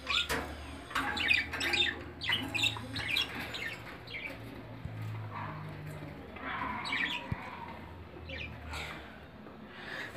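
Two male budgerigars fighting, trading harsh, rapid squawks and chirps in repeated short bursts, fairly faint against a quiet room background.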